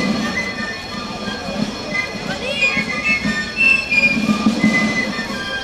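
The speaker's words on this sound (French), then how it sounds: "Les 2 rames roulent exceptionnellement en parallèle sur les voies montantes et descendantes" Two trams run side by side on the up and down tracks during a ceremonial procession on a new tram line. A steady rolling rumble with faint squeal and whine fills the clip, and a crowd murmurs in the background.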